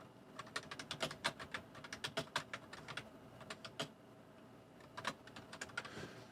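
Typing on a computer keyboard while entering text for laser-cut art, with clusters of quick, crisp key clicks in uneven bursts and short pauses between them, close by and fairly quiet, with no voice.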